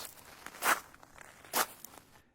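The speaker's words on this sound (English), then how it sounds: "A man stepped towards us." A man approaches on foot: two soft, crunching footsteps about a second apart, quiet and fairly close, over faint background noise.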